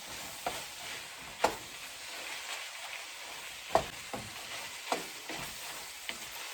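A spoon stirs sweet peppers into a low-carb palmini lasagna filling with a soft sizzling hiss, and irregular scraping knocks come every second or so.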